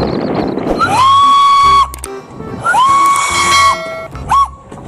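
A green toy Thomas train sounds its steam whistle three times, two long blasts and a short final toot, loud and close, with faint mechanical rattle between them.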